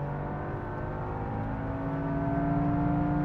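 A Toyota GR Yaris engine revs high on the Sepang circuit, a steady droning tone heard from inside the car that climbs slightly and grows louder toward the end.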